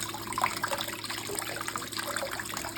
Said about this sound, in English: No water is escaping over the top of the blue bowl, and it is all funneling down there.